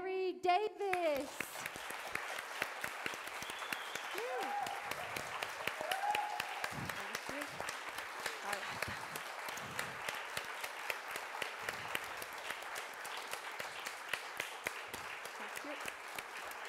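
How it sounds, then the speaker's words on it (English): A festival audience applauds an English Football Hall of Fame inductee in a steady, continuous wash of many clapping hands that lasts throughout, moderately distant, with voices briefly heard over it. "could we have a huge round of applause for the absolutely amazing Kerry Davis?"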